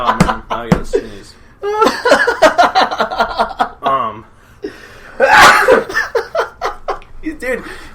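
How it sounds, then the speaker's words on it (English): A sneeze bursts out loudly around the middle of a stretch of lively, laughing conversation among several people, with chuckles and voices before and after it. "Oh man, I gotta sneeze."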